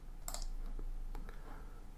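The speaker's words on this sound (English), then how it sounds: "And then I'm going to click save," A few sharp computer mouse clicks, small and close, spaced unevenly in a quiet room.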